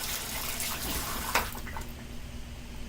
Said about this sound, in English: The hot water comes out of the correct side